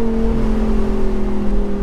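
A Lamborghini Huracan EVO RWD Spyder engine drones steadily while driving, with a strong sustained hum and road rumble throughout and no talking.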